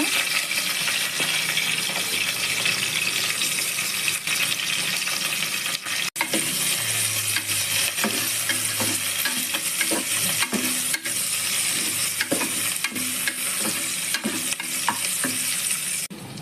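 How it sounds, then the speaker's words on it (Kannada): Onions and curry leaves frying in oil inside a pressure cooker for bisibele bath, giving a loud, dense, continuous sizzle with scattered stirring clinks and scrapes of a spoon against the metal. "ಎಣ್ಣೆ ಕಾದ ಕೂಡಲೇ ಕರಿಬೇವು ಹಾಕ್ಕೊಳ್ಳೋಣ ಈಗ ಹಚ್ಚಿಟ್ಕೊಂಡು ಈರುಳ್ಳಿ ಹಾಕ್ಕೊಳ್ಳೋಣ"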